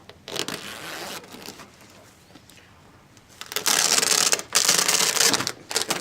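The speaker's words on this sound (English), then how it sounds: "we must first unzip the seat." The seat zipper of an Osaki OS-3D Pro Dreamer massage chair is pulled open with a paper clip in rough, raspy bursts: a brief tug, a quieter stretch, then louder continuous zipping near the mic.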